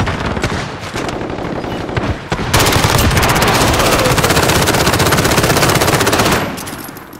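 Sustained automatic fire from a purple-bullet gun in the video game Call of Duty, a loud dense rattle of rapid shots that steps up in intensity partway through, then cuts off near the end.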